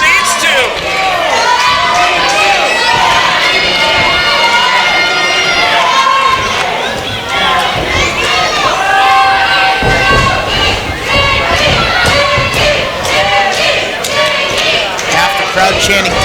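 A loud wrestling crowd chants two rival names at once, half calling for Dicky and half for MPT, with shouting voices and rhythmic clapping overlapping in a dense, continuous roar while an announcer talks over it.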